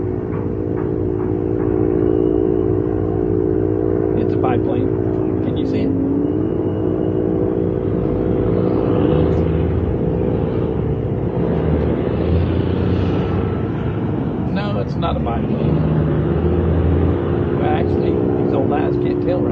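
An older biplane drones overhead near the Battleship Texas, a low, steady engine hum with tonal harmonics that holds for the whole stretch while people talk over it.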